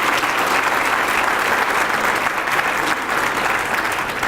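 Steady, dense applause fills a business-of-the-year chamber luncheon as the audience claps for small business nominees, loud and continuous for the whole stretch without any talk.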